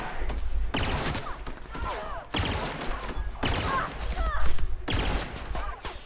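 Revolver gunfire in the video game The Outer Worlds: a string of loud, sharp shots with broadband blasts spaced about a second apart, each trailing off into echo.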